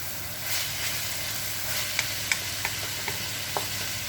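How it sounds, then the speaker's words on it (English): Cabbage and other vegetables for shrimp lo mein sizzle steadily in a pan, with several distinct scraping and clicking strokes of a utensil as they are stirred, close and without voices. "Continue to stir occasionally as we are tenderizing these cabbage and other veggies"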